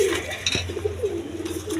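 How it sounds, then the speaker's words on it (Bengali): A pair of orange chila pigeons, a hen and a cock, give soft low coos close by, with a brief metallic clink in the middle and no talking. "এখানে এক পেয়ার অরেঞ্জ চিলা কবুতর আছে"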